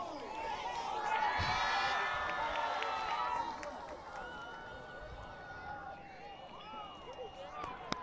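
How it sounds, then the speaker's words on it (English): Crowd at a high school football game, Muir at Charter Oak, roaring loudly in the first seconds and then settling into a steady murmur of voices and cheers. "Crowd makes some noise."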